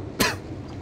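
A single short, sharp cough, close and fairly loud, standing alone over a faint background hum.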